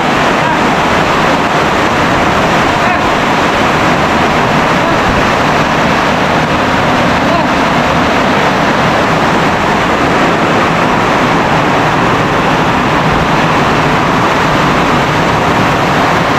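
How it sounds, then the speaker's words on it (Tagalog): Steady, dense roar of heavy rain at a house, constant and loud throughout with no breaks, the hiss filling the whole space. "Lakas ng ulan."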